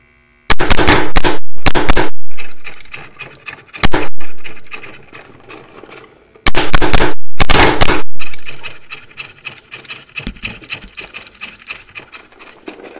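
Ego11 and DM5 paintball markers firing dirty Reballs paintballs in loud, rapid bursts of sharp shots, two separate strings a few seconds apart with quieter handling noise between them.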